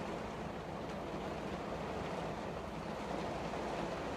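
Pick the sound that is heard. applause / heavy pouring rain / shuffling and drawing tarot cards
heavy pouring rain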